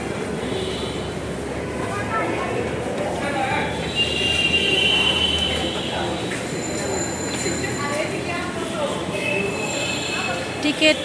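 A Dhaka metro train runs along the line, a steady rumbling roar with metallic wheel squeals and whining tones rising and fading, heard close from inside among passengers, with voices chattering over the noise.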